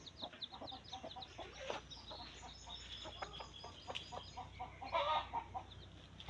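Chickens cluck repeatedly in short bursts, with a few sharper squawks and busy farmyard bird calls around them, fairly close and steady.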